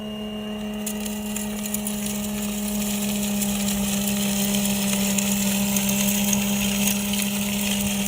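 A Yarbo snow-clearing robot gives a steady motorized whir and hum with gritty crunching and churning of ice chunks underneath, continuous and close, with no voices.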